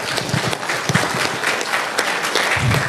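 An audience at an Islamic religious lecture claps together, a sustained burst of applause with dense overlapping hand claps.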